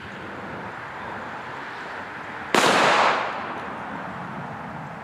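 A pistol fires a single shot of Winchester white box 230 grain ball ammunition. It is one sharp, loud, close report with a short decaying tail, and no talk is heard.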